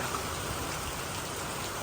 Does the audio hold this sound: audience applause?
no